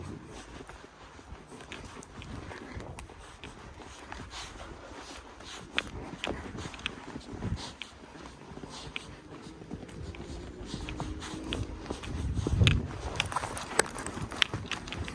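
Kantoum the horse trotting along a muddy woodland path, soft irregular hoof thuds close by with rustling and light breathing throughout, growing a little louder toward the end.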